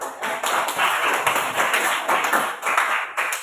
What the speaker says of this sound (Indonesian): Sebelumnya tepuk tangan dulu buat teman kalian yang berani maju.